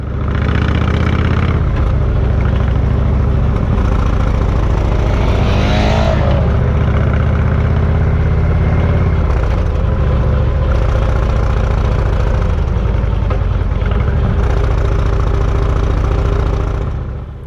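Steady, loud drone of a Moto Guzzi motorcycle engine while riding a mountain pass, with pitch rising and falling through gear changes and throttle shifts, wind rush throughout and no voices.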